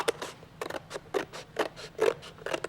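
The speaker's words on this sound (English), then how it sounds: "I'll start out, see if my scissors will go through safely." Scissors cut through a milk carton in a steady series of about a dozen crisp snips, close and moderately loud with no talking.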